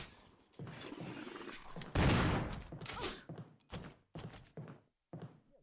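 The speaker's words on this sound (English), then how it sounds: "Don't fire warning shots at the thing." Gunshots in Resident Evil HD Remaster, a string of heavy, thumping shots fired one after another, with a dense burst in the middle and then evenly spaced single blasts with short gaps between them.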